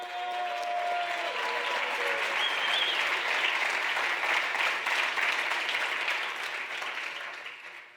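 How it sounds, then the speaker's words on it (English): Audience applause at a company soft-launch event in Greece, a sustained burst of clapping from a sizeable crowd that holds steady for several seconds before tapering off at the end. "let's give a big, massive applause to Giorgio"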